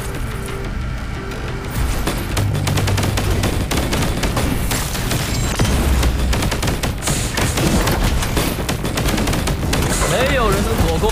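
Gunfire in the video game Punishing: Gray Raven, with Lee Palefire shooting: loud, dense, rapid automatic bursts that run almost without pause, mixed with impact booms and crashes.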